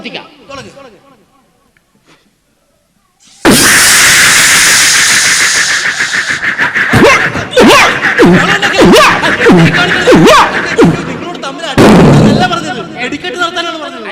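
After a quiet opening with some talk, a sudden loud roar of bursting fireworks erupts at a stage show, with rapid crackling pops and repeated sharp bangs continuing to the end.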